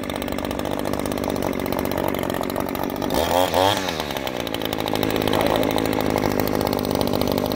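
An Echo SRM-225 string trimmer's two-stroke engine runs with a buzzing drone, briefly revving up and down near the middle before settling back to a steady idle, close and loud, with a few muffled words.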